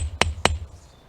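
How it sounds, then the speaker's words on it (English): Two sharp hammer strikes on a chisel cutting stone for a fire pit ring out about a quarter second apart, bright metallic clinks over a low background hum, then fade. "you do need a good chisel and a pretty good hammer for doing this"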